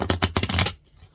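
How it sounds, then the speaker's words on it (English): A short burst of tarot cards being shuffled by hand, close and crisp, with several quick riffling snaps in a row before it drops to near silence. "So give me a little bit of time to shuffle these cards."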